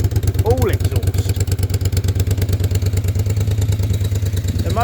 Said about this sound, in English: the engine is so mechanically quiet. It's incredible. It's all exhaust.